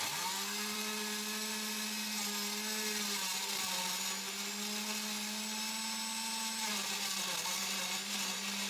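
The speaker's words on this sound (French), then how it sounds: "je vais écraser, faire une purée avec de l'eau et du sucre" A blender purées melon with water and sugar, a loud, steady motor whine that holds its pitch throughout, dipping briefly as the load shifts, with no talking.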